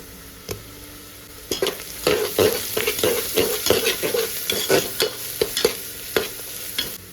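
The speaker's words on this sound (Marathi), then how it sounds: "आता टाकूया लसूण आणि अद्रकची पेस्ट." Garlic and ginger paste fried with onion for a paneer biryani, a spoon scraping and stirring in repeated strokes over a steady sizzle, close and without speech.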